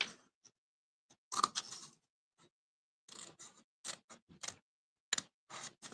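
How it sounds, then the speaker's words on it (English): Several short bursts of scissors snipping through paper, quick crisp cuts separated by pauses, close and fairly quiet with no talking. "I'm gonna use it with the scissors."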